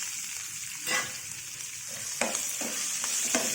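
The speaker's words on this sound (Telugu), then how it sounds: "దీంట్లో ఇప్పుడు మనం ఈ పచ్చిమిరపకాయలు వేద్దాం." Green chillies fry in hot oil with cumin seeds in a pan for a peanut chutney, making a soft, steady sizzle with a few louder stirring scrapes and crackles close by.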